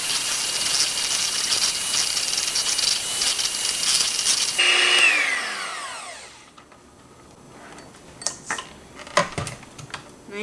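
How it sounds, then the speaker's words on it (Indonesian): An electric mixer beats cream cheese chiffon cake batter before the flour goes in, a loud steady whirring that winds down, followed by scattered clinks and knocks. "sekarang kita kocok ini dulu sebelum kita masukkan tepung terigu"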